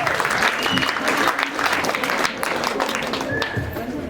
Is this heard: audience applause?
yes